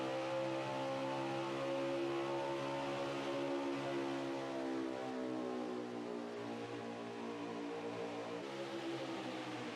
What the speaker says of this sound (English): Listen to these cars drive out here at Homestead Miami Speedway.